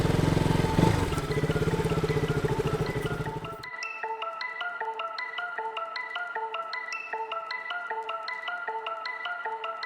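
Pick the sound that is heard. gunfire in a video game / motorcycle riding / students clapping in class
motorcycle riding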